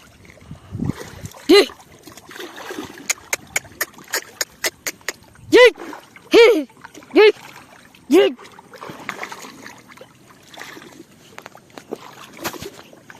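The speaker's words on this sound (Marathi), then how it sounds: "हे बघा कसं पोहत आहे बैल" A bull swimming in a pond throws up a series of sharp, loud water splashes in irregular bursts, several close together mid-clip, with softer sloshing and trickling between them.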